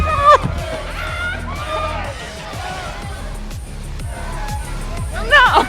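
Concert crowd in the video game Life is Strange, excited cheering, whoops and shouting babble with music-like tones, lively throughout with louder bursts at the start and end.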